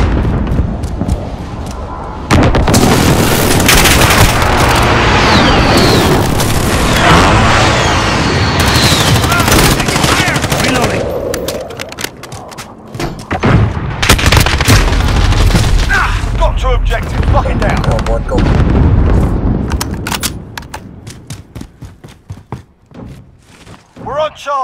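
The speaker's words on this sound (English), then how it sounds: "Friendly precision airstrike inbound." Precision airstrike explosions pound a Domination match on Hackney Yard in Call of Duty: Modern Warfare, loud heavy booms and rolling blasts mixed with bursts of gunfire, easing toward the end, with voices talking over the barrage.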